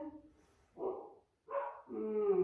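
Pet dogs indoors bark at people walking past outside, giving a few short, moderately loud woofs in separate bursts with brief pauses between them.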